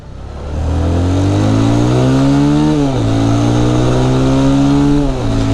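A car engine in the video game GTA revs hard and loud with a rising whine, briefly dropping at a gear shift and then climbing again, alone without talk.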